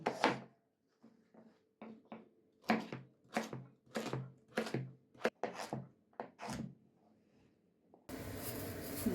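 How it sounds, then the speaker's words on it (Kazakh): A knife chops carrots into small cubes while Kazakh mashkhurda soup simmers: roughly a dozen crisp, close strikes at an uneven pace, with brief pauses. A burst of broadband noise closes the sequence. "Сәбізімізді алып, осыны майдалап, төртбұрыштылап турап аламыз."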